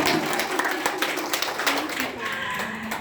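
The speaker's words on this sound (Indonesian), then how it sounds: "tepuk tangan dong buat kami" Audience clapping at a ladies' business seminar in Singapore: brisk applause from a room of people, with talk mixed in over the claps.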